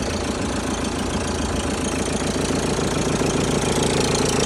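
A tractor's 1.9 turbo diesel engine idles with a steady knocking chug, loud and near, running evenly throughout.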